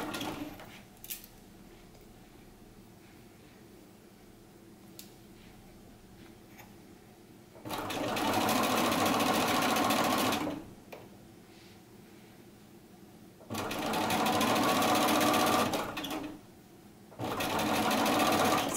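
A sewing machine stitches a set-in sleeve in the round, three loud sustained runs of rapid stitching separated by quieter pauses with faint ticks and fabric handling, recorded close.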